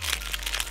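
Parcel packaging crinkles as it is unwrapped, a quick burst of rustling plastic crackles, close and busy, over a low background rumble.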